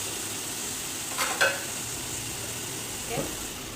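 Onions and tomato rice fry in a pan under a steady soft sizzle, with a couple of brief stirring scrapes and clinks standing out, close and moderately quiet.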